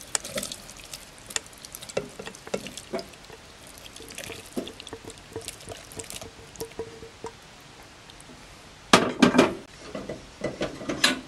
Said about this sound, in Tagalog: Ang gagawin natin, isasalin lang natin dito yung ating ginisang talaba.